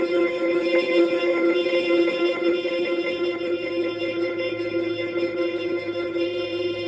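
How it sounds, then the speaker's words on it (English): An ER-301 sound computer produces strange granular effects: a dense, sustained droning texture of layered tones with shimmering, grainy overtones that holds steady throughout without pauses or speech. "So there's some bizarre sort of effects happening."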